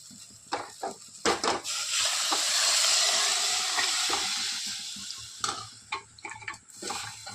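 Mutton curry masala with raw mango sizzles in hot oil as it is sautéed until the oil separates, a steady close frying hiss broken by spoon scrapes and stirring clicks.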